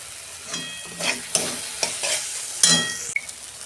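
Mutton pieces go into hot spiced oil for a curry and start frying, with spoon scrapes and clatter over a rising sizzle, close and fairly loud.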